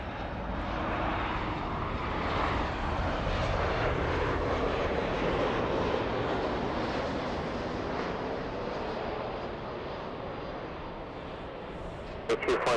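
A jet airliner roars steadily at Los Angeles International Airport, a broad, loud engine rumble that holds for the whole stretch and eases slightly toward the end, with no voices over it.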